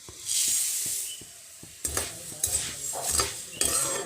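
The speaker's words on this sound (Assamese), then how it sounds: "এয়া মই সেই সেম কেৰাহীটোতে মুড়িখিনি ভাজি লম ঘিত।" Puffed rice fries in ghee in a wok, first with a soft sizzle and light ticks, then a run of louder scraping, rattling stirs against the metal pan, close by, with no talking.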